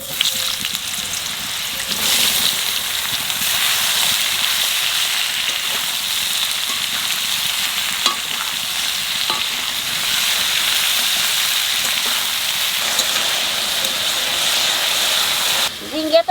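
Ridge gourd fries in hot oil, a loud, continuous sizzling hiss that holds steady throughout with a few faint stirring knocks, close and uninterrupted.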